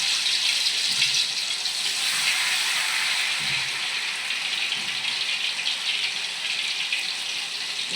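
Ghevar batter poured a little at a time into hot oil in a home kitchen, giving a steady, loud, close sizzling hiss that fills the whole stretch with no one speaking.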